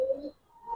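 A pair of Giribaj pigeons in a loft gives one soft, brief coo, fairly faint and alone, fading into quiet.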